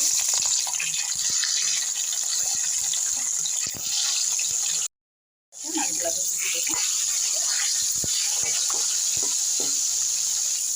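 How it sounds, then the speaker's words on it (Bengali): Rohu fish frying in hot oil, a steady bright sizzle and crackle at close range, briefly cut to silence midway, with scattered pops and a voice speaking now and then. "এবার আমি রুই মাছগুলোকে ভেজে নেব"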